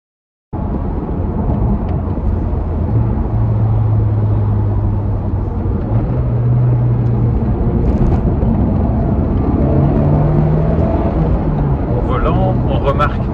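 Honda Civic Type R FK8 with a limited-slip differential driving on the road, giving a steady loud engine and road drone heard from inside the cabin, with someone talking over it.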